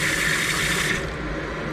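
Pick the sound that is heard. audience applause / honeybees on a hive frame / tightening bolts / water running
water running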